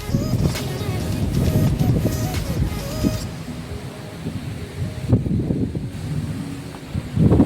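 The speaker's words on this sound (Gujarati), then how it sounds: "પવન ખૂબ જ જોરથી ફૂંકાઈ રહ્યો છે." Strong wind blows ahead of an approaching rainstorm, sweeping through a neem tree; loud, rough gusts buffet the microphone continuously, rising and falling without any talk.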